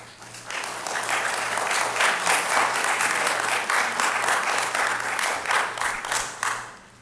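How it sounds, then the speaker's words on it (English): Sustained audience applause fills a city council business meeting, dense clapping from a crowd, loud and steady for several seconds before tapering off at the end. "Please refrain from clapping."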